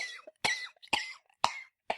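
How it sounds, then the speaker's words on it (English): A person coughs repeatedly, five harsh close-up bursts spaced roughly half a second apart, each followed by short raspy breaths. "And I am coughing."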